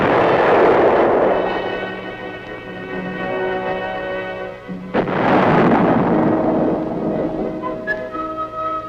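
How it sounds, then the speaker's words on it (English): A large gun fires at Aberdeen Proving Ground, a deep booming muzzle blast that rolls out and fades, followed by a second heavy thunderous blast and its long rumbling decay, with no voices. "With a gun as large as this, muzzle blast is a potential source of damage and a hazard to the crew."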